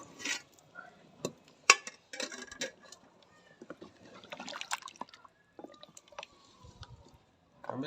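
Reserved beef yakhni broth is poured into a pot of browned beef paya trotters. The liquid splashes and drips close by in short, uneven bursts, with occasional clinks from the pot.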